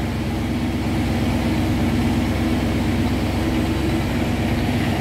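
A 1958 Chevrolet Impala two-door hardtop with a 348 tri-power V8 idles with a steady, loud, close low rumble, even and unbroken throughout.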